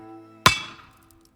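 One sharp metallic clang of a hammer striking an anvil rings out close and loud, then decays through a long fading ring.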